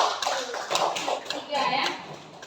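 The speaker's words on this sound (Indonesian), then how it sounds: "tepuk tangan untuk kelompok" A school class claps for group 3 in an Indonesian lesson, scattered bursts of hand claps mixed with children's voices, fairly faint and brief.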